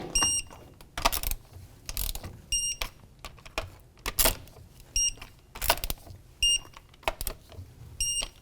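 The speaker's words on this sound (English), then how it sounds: "you're always going to want to torque in a star pattern." Close-up metallic ratcheting and clicking as a torque wrench tightens the front wheel nuts on a 2001-2007 Volvo V70 XC, in repeated short bursts with brief pauses between, no voices.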